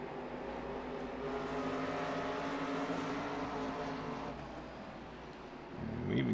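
Race car engines in a National Series race at Stafford drone loudly together, climbing through the gears in a sustained roar that eases briefly before another engine surges close at the end.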